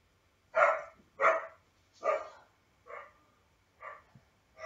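A pet pup barks six times in a row, the sharp barks spaced just under a second apart at a moderate, fairly close level, with no voices over them.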